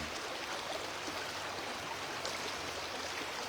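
A river flows steadily in a soft, even wash of water noise, faint and constant without any breaks or other sounds over it.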